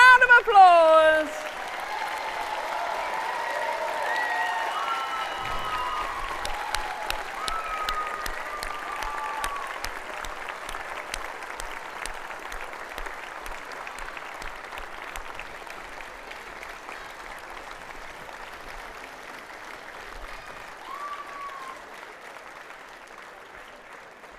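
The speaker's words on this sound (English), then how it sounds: "let's give them a big round of applause" An audience at a university graduation ceremony applauds the standing graduates, steady sustained clapping from a large crowd lasting over twenty seconds and slowly thinning, with a voice speaking over it at the start.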